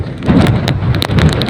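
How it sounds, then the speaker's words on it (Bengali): Heavy cyclone rain from Cyclone Remal pours down by a riverside, a dense close hiss with sharp gusty bursts and spattering hits rising and falling throughout. "আর বৃষ্টি ভালো মতো হচ্ছে এখন"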